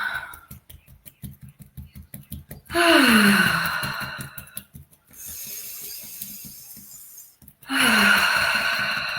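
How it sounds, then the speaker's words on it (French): During a guided breathing exercise for relaxation and grounding, a person breathes in through the nose and out through the mouth, with two long, audible, close exhales and softer rhythmic breath sounds between them. "J'inspire par le nez en gonflant le ventre, poitrine, clavicule. Et elle expire par la bouche ou par le nez"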